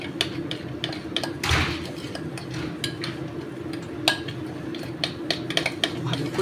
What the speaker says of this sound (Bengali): ভালো করে মিশিয়ে নেবো মশলাটা